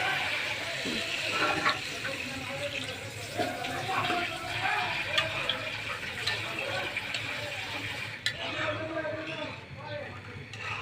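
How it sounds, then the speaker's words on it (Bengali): Water poured into a pan of cooked soybean chunks makes a steady splashing, filling sound over about ten seconds, with talking underneath. "এখন আমি পানি অ্যাড করে দিব"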